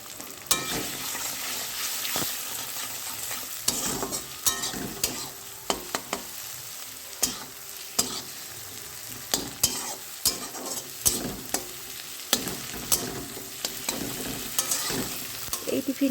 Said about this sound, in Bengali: আর ডিমটা দিয়ে একটুখানি ঘাটা ঘাটা করে দেবো